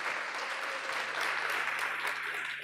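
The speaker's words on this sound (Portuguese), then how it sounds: "se você vai aplaudir, faça forte para Jesus." A church congregation claps steadily and densely throughout at a moderate, even level, with no voices standing out.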